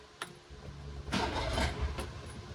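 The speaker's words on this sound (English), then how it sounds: "Let's make sure the ignition works and the motor still turns over." An outboard motor on a Scout 155 boat is cranked over with the ignition, giving a short burst of starter churning after a brief click, fairly close and moderately loud.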